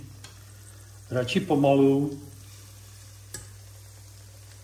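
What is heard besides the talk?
chicken frying in hot oil in a pan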